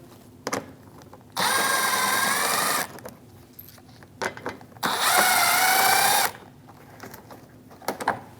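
A power tool with a 7mm socket spins out bumper screws on a 2016-2025 Chevrolet Malibu 1.5L, two steady whirring bursts of about a second and a half each, close up, with light clicks and handling noises between them.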